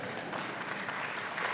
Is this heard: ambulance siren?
no